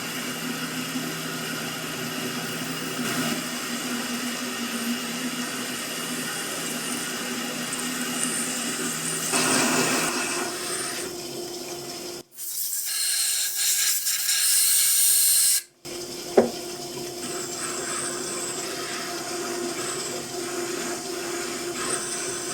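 A rotary broach cuts into solid steel stock on a lathe, giving a steady, loud grinding whir with a harsher, brighter stretch midway, a brief near-silent break, and a sharp click near the end.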